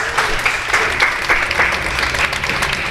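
Steady applause from spectators at a varsity rugby match as players walk off the field, a dense even patter of clapping holding for about three seconds.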